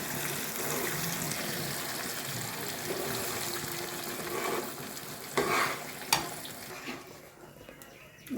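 Tomato chutney cooks in a pan with a soft continuous sizzle and stirring scrapes, and a few louder clinks and scrapes come toward the end.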